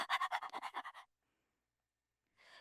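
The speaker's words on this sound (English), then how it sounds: "You're just panting, panting, panting." Rapid, rhythmic panting from a frightened character in the horror game Argus, about nine quick breaths close and loud, then silence and a faint return of breathing at the end.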